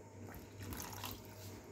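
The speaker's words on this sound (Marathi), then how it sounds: "मी पण थोडंसं पाणी टाकते" Water poured into a pan of cashew masala gravy, a steady close splashing trickle that runs for under two seconds with no talk over it.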